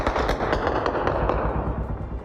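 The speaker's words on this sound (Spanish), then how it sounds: "los disparos se pudieron escuchar de forma consecutiva, lo cual apuntaría a que se utilizaron armas automáticas de alto poder" Rapid bursts of automatic gunfire crackle in quick consecutive volleys during a shootout, loud and sharp with a dense rattling rhythm, no voices heard.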